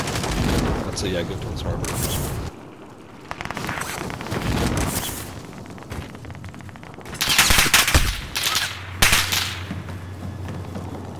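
Gunshots in a Call of Duty Modern Warfare match: repeated bursts of automatic fire, some near and loud, others more distant, under a player's talk and a steady game background.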